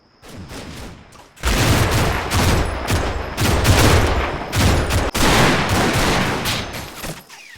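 Heavy gunfire in the video game Combat Mission: Fortress Italy crackles almost nonstop, long-range volleys and machine-gun bursts overlapping with distant booms, loud and sustained after a brief quieter opening.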